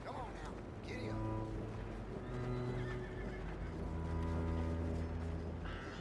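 A horse in Red Dead Redemption 2 gives a loud whinny while its hooves clip-clop along at a trot, the neigh rising over steady hoofbeats and faint background game sounds.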